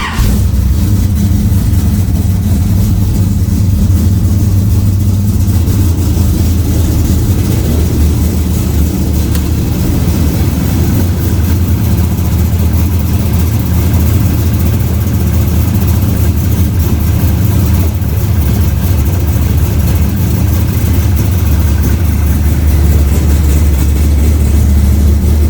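An engine idles steadily after its carburetor mixture screws have been backed out and the idle raised slightly, a loud, rough, continuous low rumble close by that holds level throughout, with no talking.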